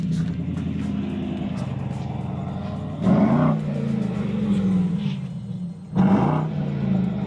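Brabus 900 Rocket Edition, a tuned Mercedes-AMG GLE 63 S 4MATIC+ Coupé, revs its engine up close: a steady deep rumble with two sharp throttle blips that flare loudly before settling back to idle.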